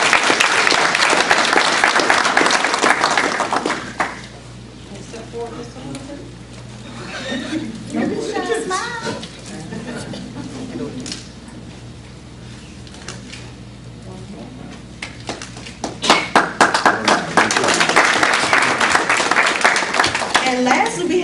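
A school board meeting audience bursts into strong applause for science fair winners, the clapping dying down into chatter and a speaker's voice before a second loud round of applause rises at the end.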